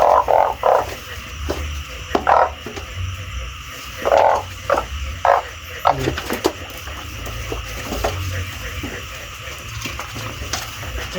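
Frogs croak at night during frog catching in the Thai countryside, with loud, close croaks in uneven clusters and short pauses over a constant nighttime insect drone.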